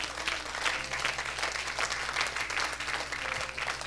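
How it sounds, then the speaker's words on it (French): A church congregation at a Thursday service claps steadily for several seconds, dense sustained applause filling a reverberant hall with no talk over it. "Acclame comme une façon de le dire merci."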